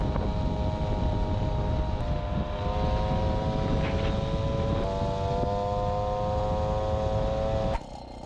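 An MBK 40V moped with a 3x4.5 g variator revs steadily, its close, loud engine note holding a rising harmonic whine, then dropping abruptly near the end.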